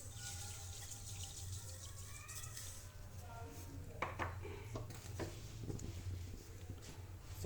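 About one and a half cups of water pour into a pan to start sugar syrup for shahi tukra, a steady splashing stream with a few soft utensil clinks in a home kitchen.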